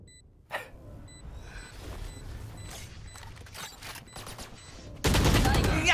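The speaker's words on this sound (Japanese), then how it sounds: "タレットが撃ってる、タレットが撃ってる。" An automated turret fires during a Valorant match, a rapid stream of sharp shots and mechanical clatter building in density, ending in a loud burst of noise, with faint tonal beeps early on.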